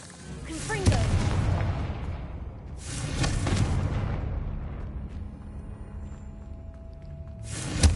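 A Confringo fire spell blasting in Hogwarts Legacy, heavy booming explosions with long rumbling tails, several in a row, loud and near.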